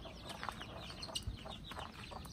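Backyard chickens in a rural Philippine village cluck in short, soft bursts scattered across a steady low ambient background, with no voices.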